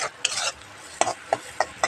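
Several quick scraping strokes of a utensil stirring fried food for khichuri in a pan over a faint sizzle, in an uneven rhythm, close by.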